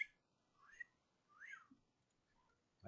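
A person attempting to whistle, producing a few weak, breathy rising and falling whistled notes with gaps between them, quiet and close.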